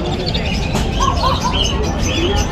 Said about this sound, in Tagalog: Silipin natin ang mga ibon ni Boss Jun.